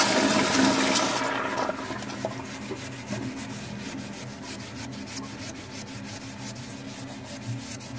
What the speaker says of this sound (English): The flush again so the water will not be in the way.